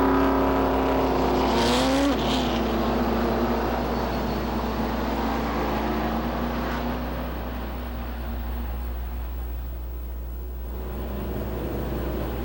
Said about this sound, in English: we've got heat number 1 for the Pro Stocks on the racetrack now